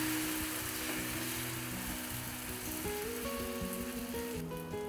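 Batter spread onto a hot oiled tawa sizzles steadily and closely for a quick breakfast dish, with a continuous frying hiss and faint tonal sounds in the background.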